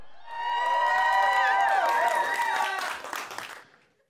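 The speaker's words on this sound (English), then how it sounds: "You guys can clap." At a wedding reception at Cabins on Strawberry Hill, guests clap and cheer for the newlyweds during a couples' quiz game; excited voices and whoops ride over the applause, which swells and then fades out toward the end.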